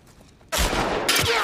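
Sudden loud gunfire in the video game The Last of Us bursts in after a quiet moment, a dense, sustained volley with a second surge of shots partway through.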